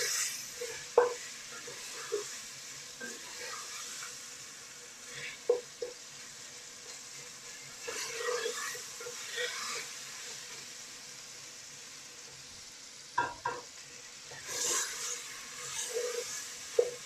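Meat bones frying lightly in a pot for soup, a steady low sizzle with occasional stirring clatters and scrapes of a utensil throughout.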